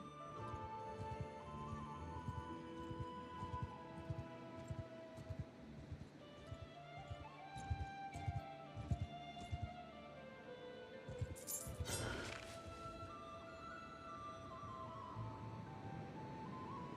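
Horse hoofbeats sound as a mounted character rides in the Old Realms mod for a fantasy strategy game, a steady clip-clop rhythm mixed with game music and ambient effects, with no speech.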